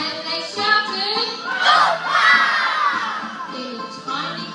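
Children at a school dance for a school fair shout together in a loud, sustained burst of crowd noise and cheering that lasts several seconds.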